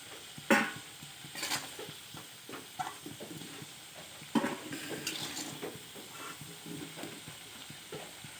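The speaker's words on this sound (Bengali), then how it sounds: "হতে থাক আলু ভাজা" Potato pieces fry in oil in a pan for chicken curry, with intermittent scraping and clinking stirs over a faint, low sizzle, fairly quiet and close.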